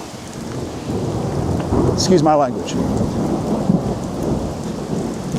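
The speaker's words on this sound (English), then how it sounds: "rain's picked up" Heavy rain pours steadily with rolling thunder at Leura Cascades in the Blue Mountains, a loud continuous downpour close to the microphone, with a voice speaking briefly over it.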